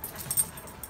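Dogs give soft whimpers and yips while playing with a cat indoors, a few faint, brief sounds close by.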